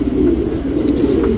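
A tournament flying pigeon coos in a low, steady, throaty rumble, close and clear, filling the short moment without other sounds.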